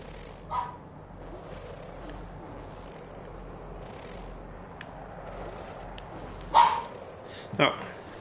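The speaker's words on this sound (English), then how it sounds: "Oh, my dog is back." Pet dog at home: a few scattered barks, one early and two louder close ones near the end, over a quiet room background with faint low hum.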